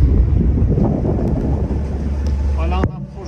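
A sailboat motors under engine power into a headwind off the east side of Kos in Greece, a steady low engine hum mixed with wind buffeting that drops off abruptly near the end.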